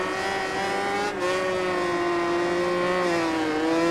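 Racing motorcycle engines in the video game MotoGP 20, a loud continuous high-pitched engine whine holding steady and climbing slightly as the bikes accelerate, with no talk.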